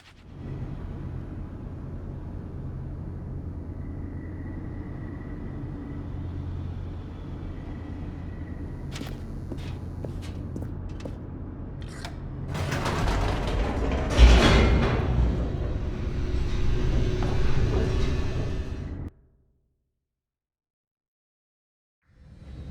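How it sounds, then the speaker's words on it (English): Elevator in The Stanley Parable plunging downward, a steady mechanical rumble that builds into a louder rattling, thumping rush with a sharp impact, then cuts abruptly to silence. "The elevator raced downward"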